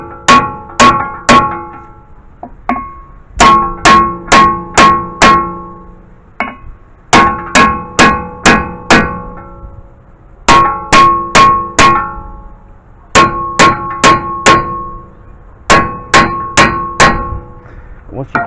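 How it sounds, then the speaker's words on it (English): A heavy hammer strikes a stuck front brake rotor on a 2004-2011 Mazda 3, ringing metallic clangs landing in quick bursts of three to five blows separated by short pauses, loud and close, with each hit leaving a brief ringing tail. "Get yourself a nice Thor hammer and just hit it here a couple times, and it should come loose."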